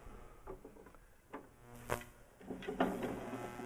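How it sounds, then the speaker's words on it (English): A wooden dowel is slotted back into a Pilates chair, giving a few soft knocks and light taps close by, separated by short pauses, with no voice over them. "I'm going to put the dowel right back in where I place it."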